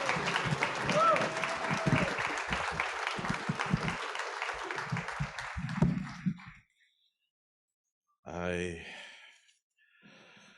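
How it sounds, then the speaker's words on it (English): An audience at a 2024 MLK breakfast claps for the musicians in a full round of applause with a few voices mixed in. It stops abruptly, and after a short silence a single voice speaks. "Can we give our musical talent another round of applause, please?"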